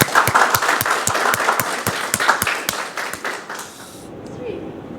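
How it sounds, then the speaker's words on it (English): Audience at a lecture bursts into applause, a dense run of clapping that thins into a few scattered claps before fading to quiet. "And maybe we give one big applause to Brian and all ourselves."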